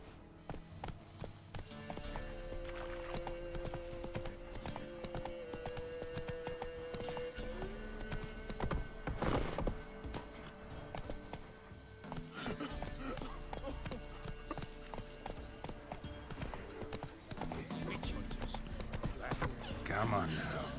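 Hooves clip-clop under a rider on horseback in The Witcher 3: Wild Hunt, a steady gait mixed with game music and occasional voices talking over the hoofbeats.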